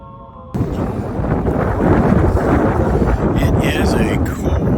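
Cold, wet spring wind gusting outdoors in northeast Wisconsin in late March, a loud steady roar buffeting the microphone after a short quieter lead-in.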